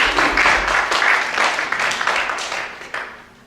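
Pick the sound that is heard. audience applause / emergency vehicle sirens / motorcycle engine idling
audience applause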